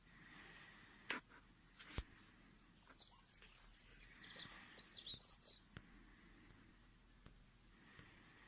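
A songbird sings faint chirps and short melodic phrases outdoors, clustered in the middle of the stretch, with a couple of sharp clicks earlier and a quiet background.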